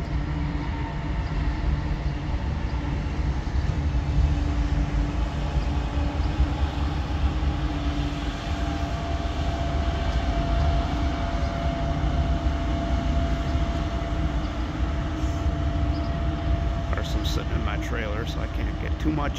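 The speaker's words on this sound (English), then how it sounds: "got ourselves a train here." A passing train gives a continuous, heavy rumble with rolling mechanical clatter that stays steady and fairly loud throughout.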